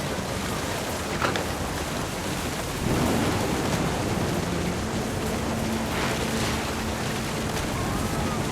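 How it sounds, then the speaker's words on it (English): Rolling thunder in the video game What Remains of Edith Finch, a low steady rumble over rain-like hiss that swells slightly partway through and continues without a break, with no voices. "The thunder sounded much too close and full of angry power."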